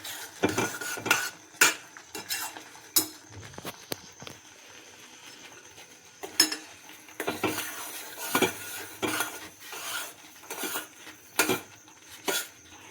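A spoon scrapes and clinks against a pan while wheat sheera is stirred in ghee, giving irregular metallic taps and scrapes at close range with no talk.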